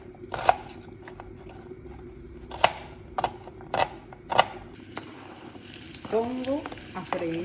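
Onion frying in hot oil on a stovetop burner over medium heat, a low steady sizzle under several sharp utensil knocks and scrapes, with a brief squeaky scrape near the end.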